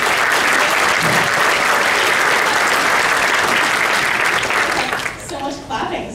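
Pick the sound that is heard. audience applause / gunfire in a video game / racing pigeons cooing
audience applause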